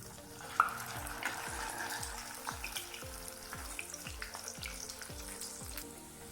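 A homemade chicken burger patty fries in a pan with a steady, moderately loud sizzle, punctuated by a regular run of low popping spatters, with no talk.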